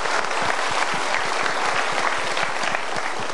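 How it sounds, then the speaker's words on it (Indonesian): Steady, dense applause from a live studio audience at an Indonesian motivational talk show, many hands clapping evenly throughout without pause or voices on top. "kita berikan tepuk tangan dulu mereka"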